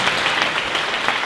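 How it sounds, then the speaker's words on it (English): A premiere audience at the Rialto gives a round of applause, dense continuous clapping heard up close throughout. "if everybody could give them a round of applause and acknowledgement"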